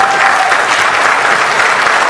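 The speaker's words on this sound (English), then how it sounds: "Give that a big round of applause one more time." An audience at an awards gala honoring influential Asian Americans in Georgia gives a big round of applause, loud dense steady clapping filling the room with crowd noise.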